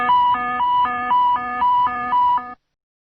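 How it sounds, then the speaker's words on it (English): Boeing 747-400 cockpit warning siren: a loud, steady two-tone electronic alarm alternating in a rapid, regular high-low pattern for about two and a half seconds, then cutting off abruptly into silence. "a siren accompanies all other warning messages"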